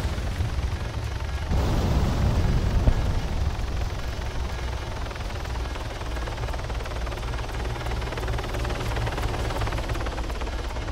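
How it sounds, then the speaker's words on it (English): A military helicopter in Arma 3 roars loud and close with a dense, continuous rotor and engine rumble, while occasional sharp bangs sound over it. "Who got in the chopper?"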